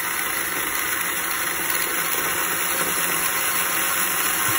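A vintage four-wheel-drive Scalextric slot car's small electric motor runs in, giving a steady, even whine with a high-pitched hum that holds constant throughout, close by and alone.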